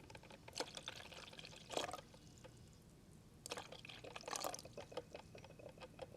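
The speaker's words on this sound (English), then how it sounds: "we're going to pour in our 2 cups of water right into the coffee maker" Two cups of water poured into a running coffee maker, heard as a few soft, uneven splashing bursts of liquid against a faint background, close and quiet.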